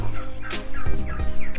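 A turkey on a small ranch, kept alongside guinea fowl, horses and dogs, lets out loud, close gobbling calls in a couple of quick rattling bursts, with no other sounds around them.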